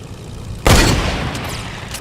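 A shotgun fires once in the Minecraft video game, a single loud broadband blast with a lingering noisy tail.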